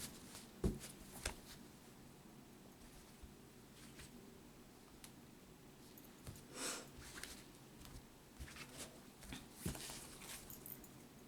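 Tarot cards are shuffled close up and quietly in scattered riffling bursts with soft pauses between them, no speech.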